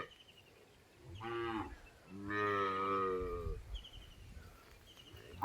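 Cattle being driven in a village low out with two long, resonant moos, the second loud and drawn out, heard fairly close against a quiet outdoor background.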